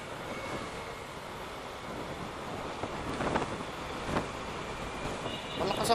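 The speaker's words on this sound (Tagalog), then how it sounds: "Malakas ang hangin, parang ano, oh, parang may bagyo." Strong wind roars steadily across the microphone while riding along a bumpy road, with louder gusts swelling around the middle and near the end; no clear talk stands out above the rush.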